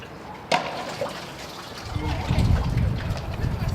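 Fresh water rinsing a scuba diving tank after a dive, a steady splashing trickle that swells louder in the second half, with a sharp knock near the start.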